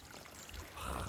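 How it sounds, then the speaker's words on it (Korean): Mountain spring water, running down from the hills near a rural house with a wood-fired cauldron and ondol floor, flows in a soft, faint gurgling stream that swells slightly toward the end of the brief moment. "물소리가 아주 좋아요"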